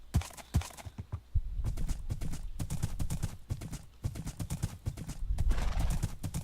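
Horse hooves clip-clopping in Minecraft, a steady run of close, crisp hoofbeats with a horse whinny, heard alone without talk.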